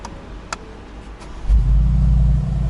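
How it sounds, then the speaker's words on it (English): A 2019 Mercedes-AMG G63 engine starts with a sudden loud bark and settles into a deep, rumbling idle, near and steady, after a few faint clicks from the cabin. "I start the car."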